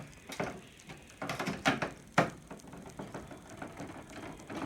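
A ratchet unscrews the nuts on a Gree air conditioner being taken apart for cleaning. Quick bursts of close clicking ring out in uneven runs, with no talking.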